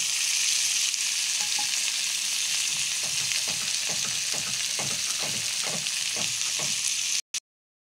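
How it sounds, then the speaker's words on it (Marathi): Tomato and onion fry in hot oil with a loud, continuous sizzle, broken by repeated scraping strokes of a spoon stirring the pan, ending in sudden silence. "मी फक्त टमाटा आणि कांदा घालून फ्राय करणार आहे"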